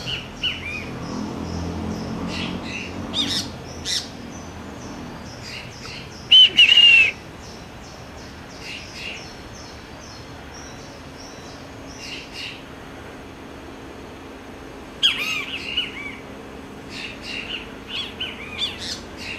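Many birds chirp and tweet at dawn, scattered short calls and whistles at moderate distance, with one brief louder squawk midway and another burst near the end, over a low steady background hum.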